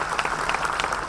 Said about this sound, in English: please give a big round of applause for Feroz